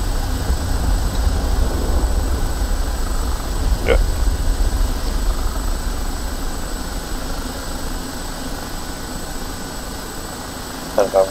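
The engine and rotor of an OH-58D Kiowa helicopter in the DCS combat flight simulator make a steady, droning hum with a faint high whine and a couple of brief clicks near the end.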